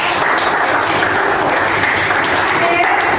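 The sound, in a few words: classroom applause for a group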